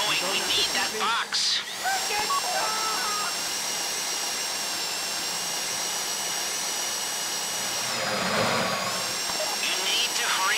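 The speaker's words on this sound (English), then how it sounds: "go in your bag, get out the drill" In a video game, a power drill bores steadily into a box with a continuous high whirring hiss. The whir rises and strains near the end, and voices talk over it.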